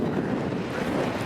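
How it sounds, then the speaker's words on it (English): Wind gusting outdoors at a hotel on a UK road trip, a steady broad roar with buffeting against the microphone and no talking. "It's a little bit windy out here."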